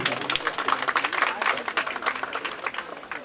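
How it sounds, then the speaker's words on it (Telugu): An audience claps together at a women's health camp event at an urban health centre, a dense burst of applause that rises quickly and slowly fades, with a voice speaking faintly underneath. "అందరూ కూడా ఒక్కసారి చప్పట్లు కొట్టవలసిందిగా కోరుతాం"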